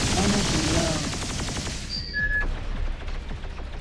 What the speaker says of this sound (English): There with the particle accelerator cannons.